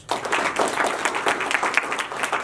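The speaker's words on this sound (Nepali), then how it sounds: "सबैले आफूले फेरि ताली बजाउनुहोस्" An audience at a Rotary Club Durbarmarg club assembly during the District Governor's official club visit applauds, producing a burst of close, dense clapping that stays loud and even for a couple of seconds.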